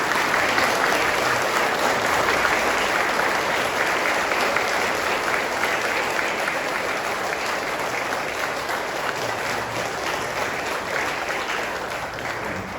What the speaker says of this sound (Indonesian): Berikan saya minta sekali lagi untuk sidang jemaat berdiri dan memberikan aplaus yang paling panjang.